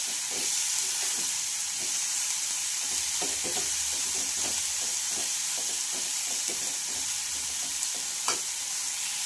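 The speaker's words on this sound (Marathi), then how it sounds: "झिंगे फ्राय करताना आपल्याला तेल थोडं जास्तच लागेल।" Dried shrimp fry in about four spoons of oil, giving a continuous soft sizzle with scattered crackles and light stirring scrapes, fairly quiet and close, with no talking.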